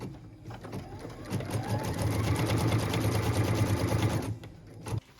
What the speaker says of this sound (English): What we're stitching now is the tack down line for piece number 4.